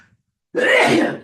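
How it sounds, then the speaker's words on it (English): A single loud, close sneeze bursts out after a moment of near silence and fades over about half a second. "I've got to sneeze."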